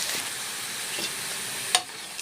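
Garlic and curry leaves frying in hot oil give a steady close crackling sizzle, with a brief sharp pop partway through.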